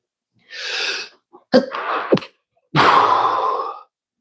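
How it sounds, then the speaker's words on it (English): A person sneezes, preceded by a drawn breath and short gasps, then one loud, close, forceful sneeze burst, with no talk. "Feel like I got to sneeze."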